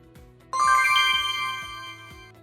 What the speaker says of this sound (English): The monitor will chime when the main menu appears.